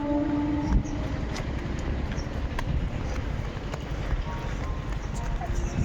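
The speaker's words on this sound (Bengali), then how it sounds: "ওই যে ট্রেন যাচ্ছে" A train rolls past close by on a sunny day, a steady loud rumble of wheels and carriages that fills the whole stretch, with a few sharp clanks on top.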